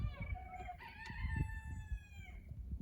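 Rooster crowing, one long drawn-out cock-a-doodle-doo, fairly close but quiet, over low background rumble and faint clucks.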